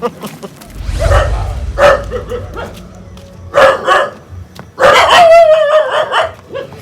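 Dogs bark loudly in several close bursts, with yips and a whining tone, in a rural Gujarati comedy setting.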